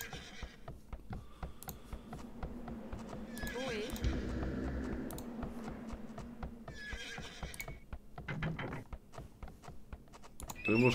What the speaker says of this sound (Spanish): Tenemos caballos.